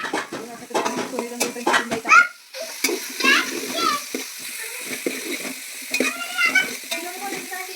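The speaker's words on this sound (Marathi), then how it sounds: "छान सोनेरी रंग येईपर्यंत कांदा भाजून घ्यायचा आहे आपल्याला" Chopped onion frying in a pan for fried rice, with a spoon scraping and stirring in repeated strokes over a moderate sizzle; a voice and clinking utensils are heard nearby.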